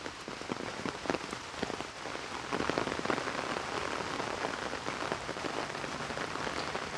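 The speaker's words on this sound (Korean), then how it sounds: "비 겁나게 많이 오네." Heavy rain pours down steadily outdoors behind a house in a rural Korean village, a dense continuous hiss of drops drumming on surfaces, loud and close throughout with no voices.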